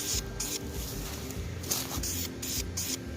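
Aerosol spray coat of flame-proof VHT paint going onto a Land Rover Defender 90 part, delivered as several short hissing bursts in a steady on-off rhythm, close and fairly loud.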